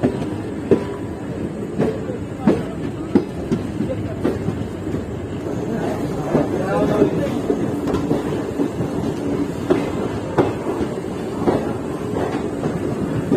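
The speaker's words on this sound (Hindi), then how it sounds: "प्रतापगढ़ जंक्शन पहुंच रही है दोस्तों हमारी ट्रेन।" Marudhar Express passenger train pulling into Pratapgarh Junction at night, with steady rumbling and regular clickety-clack wheel beats over rail joints running throughout, fairly close and loud.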